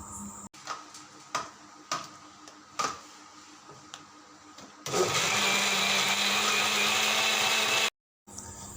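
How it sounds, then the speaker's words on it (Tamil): A mixer grinder whirs loudly and steadily as it churns milk cream with ice water to make butter, after a few short sharp bursts of pulsing, then cuts out abruptly. "கொஞ்சமாக ஐஸ் வாட்டர் சேர்த்துட்டு நான் இன்னும் கூட அரைச்சிக்கிறேன்."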